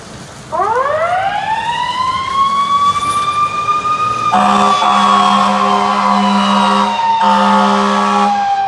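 Ambulance siren starting up as the vehicle leaves on an emergency call, a loud rising wail that climbs and holds steady, then a second siren tone joins, continuous and close throughout.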